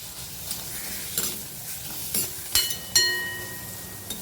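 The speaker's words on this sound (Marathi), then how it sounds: "गॅसवर कढई ठेवली त्यात कांदा टाकते भाजायला सात आठ लसणीच्या पाकळ्या आणि अर्धा इंच आल्याचा तुकडा टाकते भाजायला" Onion, garlic cloves and a piece of ginger dry-roasting in a kadhai on a gas stove, with soft sizzling under scattered scraping and clinking of a utensil against the pan, fairly quiet and close.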